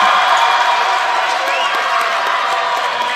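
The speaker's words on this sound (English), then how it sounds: "The roar of the crowd." A crowd roars in a packed school gym during a championship basketball game late in the contest, a loud, continuous wash of cheering and shouting with scattered whoops throughout.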